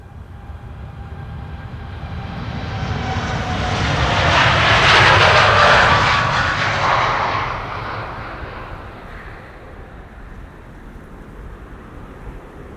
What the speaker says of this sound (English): Air Canada in the new logo is coming this way.